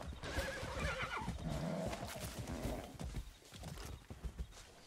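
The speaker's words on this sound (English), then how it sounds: "Horse, calm down." A horse in the video game Far Cry 6 lets out a loud, drawn-out whinny over game noise and hoof clatter, heard up close.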